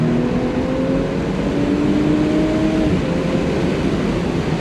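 A tuned Audi S5 (JB4, 450hp) engine pulls hard and loud, its pitch climbing steadily, then drops abruptly at a gear shift before building again.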